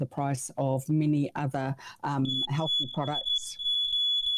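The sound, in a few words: smoke alarm beeping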